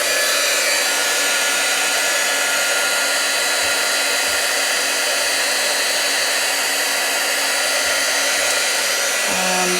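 Heat tool blowing steadily to melt embossing powder on a handmade autumn card, a loud continuous whoosh like a hair dryer running close for the whole stretch with no talk.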